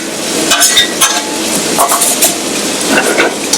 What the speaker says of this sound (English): Add the beef back to it.